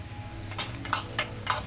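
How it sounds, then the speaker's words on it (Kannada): Peanuts fry in a little oil in a pan under a low steady sizzle, stirred with a few soft clinking scrapes, close and quiet, no speech. "ಇದು ಸ್ವಲ್ಪ ಆಯಿಲ್ ಹಾಕ್ಕೊಂಡು 1/4 ಕಪ್ನಷ್ಟು ಕಡಲೆ ಬೀಜನ ಫ್ರೈ ಮಾಡ್ಕೊಳ್ತಾ ಇದ್ದೀನಿ."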